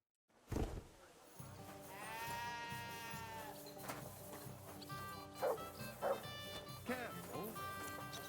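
A dog in Kingdom Come: Deliverance II gives a few barks and whining yelps over a game's ambient music, with a voice speaking partway through.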